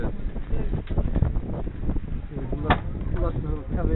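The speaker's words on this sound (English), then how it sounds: "It's windy." Wind rumbles and buffets the microphone in uneven gusts around a Renault Twizy, with a voice speaking faintly underneath.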